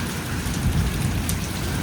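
Heavy monsoon rain pours onto a terrace where water is pooling, a loud, dense, unbroken roar of falling water with a brief brighter splash partway through.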